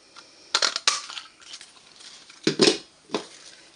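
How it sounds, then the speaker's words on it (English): Handheld 1 3/8 inch craft punch cutting out a stamped paper image: a few close, sharp crunching clicks in small clusters with quiet gaps between, no talking. "we will pop that out with the 1 3/8 punch"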